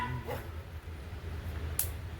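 A dog barks out in an open paddy field during an evening outing, a few faint, distant yaps over steady outdoor background noise.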